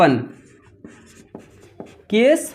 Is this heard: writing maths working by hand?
yes